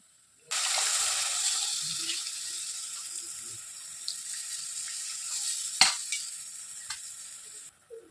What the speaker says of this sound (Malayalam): ഇനി പുളി വെള്ളം ചേർത്ത് കൊടുക്കാം